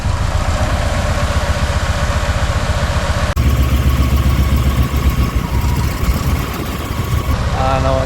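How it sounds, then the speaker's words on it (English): A Ford truck engine with a knocking fault runs at a dealership. Its steady, close rumble continues throughout, with a sudden shift in tone partway through. "the engine doesn't sound good at all"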